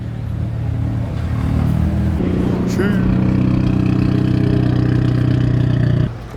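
A Chevrolet V8 car engine idles steadily and loud up close at an outdoor car show, a deep even rumble holding for about six seconds while people talk nearby.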